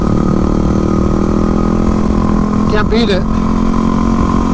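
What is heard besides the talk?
Yamaha WR250R supermoto motorcycle engine riding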